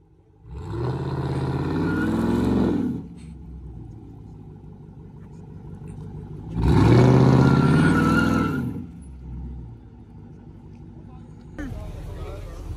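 A Charger RT or Camaro SS engine idles with a deep rumble, revving hard twice in loud surges between steadier idling stretches, with a voice talking over it.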